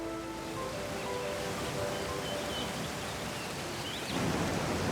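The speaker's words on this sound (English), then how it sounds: "the silence is broken by the sound of falling water" Falling water at Hindhope Linn, a waterfall in a damp, shady forest dell, gives a steady hiss and rush that stays even throughout and swells slightly near the end.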